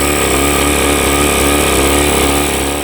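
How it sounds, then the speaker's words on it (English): Running 8hp Mercury two-stroke outboard motor with one cylinder not firing, giving a loud, steady engine drone with an uneven pulsing beat throughout. "What you're hearing is actually the sound of a cylinder not making any combustion whatsoever."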